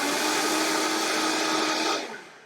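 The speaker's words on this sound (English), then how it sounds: "this high-powered, Vitamix blender is awesome for that" A high-powered Vitamix blender runs at full speed in a kitchen, a loud, steady broadband roar that holds for about two seconds before the motor winds down and fades.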